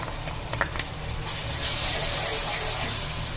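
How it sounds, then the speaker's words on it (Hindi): Ginger-garlic paste and green chilli paste hitting hot oil for a nargisi kofta curry, breaking into a steady broadband sizzle after a few light clatters of a spoon against the pan. "अब ये अदरक लहसुन का पेस्ट और ये हरी मिर्ची का पेस्ट डाल देंगे।"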